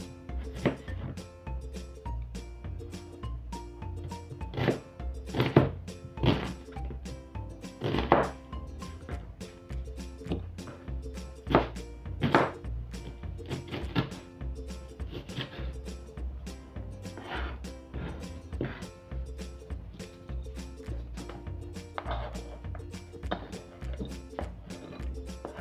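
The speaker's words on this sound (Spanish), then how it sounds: "para el caldillo vamos a picar cebolla" Knife chopping onion into small cubes on a cutting board in a home kitchen for a tlalpeño broth, irregular close thuds and taps with quiet kitchen background.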